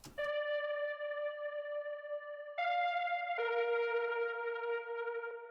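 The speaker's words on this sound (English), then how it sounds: "It's a stick sample, and I've just dragged it into a sampler" A sustained synth stick sample played in a sampler rings out, clean and buzzy, stepping down to two lower held notes, isolated with no background.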